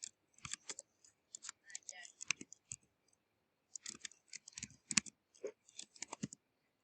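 Rapid bursts of clicky keystrokes on a computer keyboard while a calculation is entered into the Desmos graphing calculator, coming in short clusters with a brief pause midway, close and fairly quiet.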